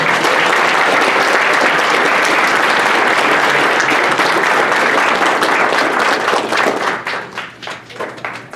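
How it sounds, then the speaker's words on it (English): A ceremony audience applauds a graduate with a thick, sustained wash of clapping that thins into scattered individual claps toward the end. "So big round of applause for Latrell."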